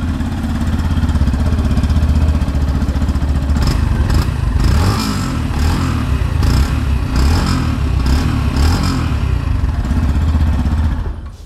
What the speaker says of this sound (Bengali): এখানে আপনার ইঞ্জিন, আমি সাউন্ডটা একটু শুনিয়ে দিচ্ছি আপনাকে